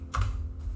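Brief clatter of keystrokes on a computer keyboard while a web address is typed, a short burst of clicks near the start, close and quiet, with no talk.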